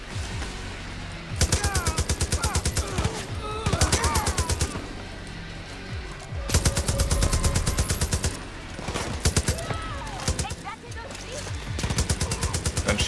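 Gunfire in Far Cry New Dawn: loud, close automatic bursts of rapid evenly spaced shots, several distinct volleys separated by brief pauses, with someone talking between and under them.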